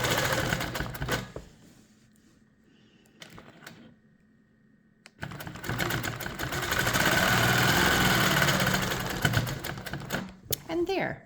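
A sewing machine with a hopping foot runs a straight stitch along a quilt border, starting after a quieter stretch with speech and then running steadily and fairly loud for about five seconds before stopping.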